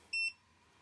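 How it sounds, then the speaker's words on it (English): A soldering iron gives one short, clear electronic beep, a bright tone lasting a fraction of a second, then quiet room hiss follows. "That was my soldering iron beeping."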